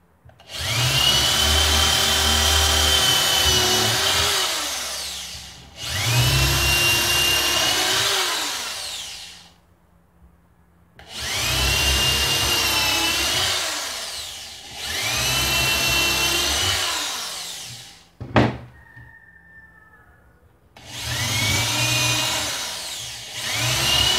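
A power drill driving screws while building a wooden table runs in repeated long bursts of several seconds each, whirring loudly with brief pauses between, and a sharp clack in one gap.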